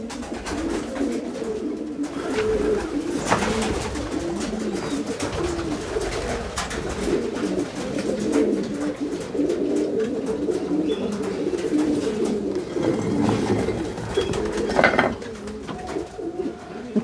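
A young pigeon squab coos repeatedly in soft, rolling, overlapping calls, close and steady throughout, with faint background noise and no talking.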